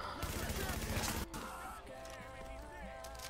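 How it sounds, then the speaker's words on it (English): Video game gunfire: a rapid burst of repeated shots for about a second, then a sharp cutoff followed by quieter game sounds and tones. "Stop shooting at me!"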